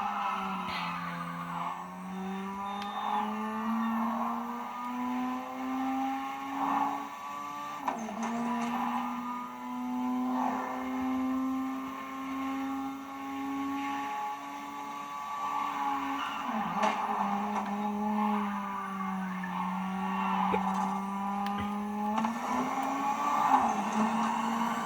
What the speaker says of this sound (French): Vous voulez entendre plus le bruit de la voiture?